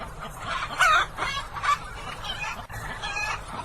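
Several chickens being caught and thrown into crates on a poultry farm, clucking and squawking close by, overlapping irregular calls with no talking.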